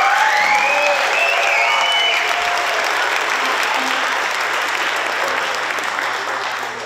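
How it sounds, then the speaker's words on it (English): An audience at a middle school jazz band concert applauds the B-sharps and the ringleaders, with dense, sustained clapping that stays loud throughout and tapers only slightly near the end. "how about another round of applause for the B-sharps and the ringleaders"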